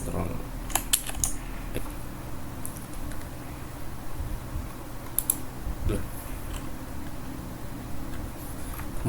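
Keys clack on a computer keyboard in quick irregular bursts, close and steady, with a few sharper clicks standing out from the typing and a faint background hum.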